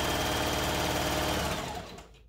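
A home sewing machine stitches face masks with a steady, loud mechanical whirring rattle that runs for about two seconds and then winds down and stops.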